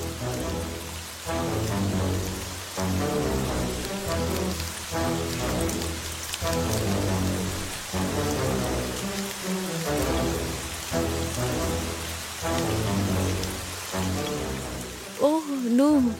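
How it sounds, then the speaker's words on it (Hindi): Heavy rain falls in a dense, continuous hiss, loud and close, while voices speak over it and music plays underneath. "तेज बारिश होने लगी।"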